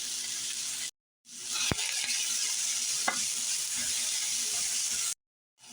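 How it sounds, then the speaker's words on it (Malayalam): Sliced onions with a pinch of salt sautéing in a pan for a thick-gravy fish curry, a steady bright sizzle broken by a few sharp spatula knocks, close by, briefly cut to silence twice. "ഇനി ഇത് നമുക്കൊന്ന് വഴറ്റിയെടുക്കാം."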